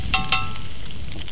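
Bacon fries in a pan with a constant close sizzle, and two brief sharper spits of popping fat come near the start.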